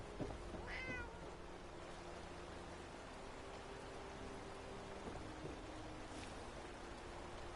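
A cat in Fallout 4 gives a single short meow near the start, over steady game rain and low rumbling ambience that continues alone afterward.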